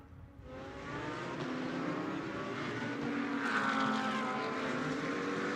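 A KTM GT2 race car engine swells loudly past at a Fanatec GT2 Series qualifying session in the Algarve, a rising and shifting roar with harmonic overtones sustained for several seconds.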